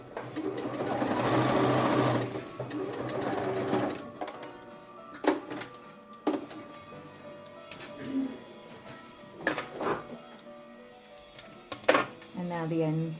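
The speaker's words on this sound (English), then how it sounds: "I'm just going to stitch it on the edge" Sewing machine edge-stitching a zipped makeup bag, a loud continuous whirring run of stitches that stops, followed by scattered clunks and handling noises as the fabric is adjusted, with a voice talking over parts of it.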